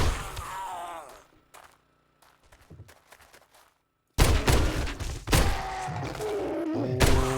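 A shotgun in 7 Days to Die blasts in a rapid, loud series of heavy booms after a quieter stretch of faint clunks, the shots coming in quick succession.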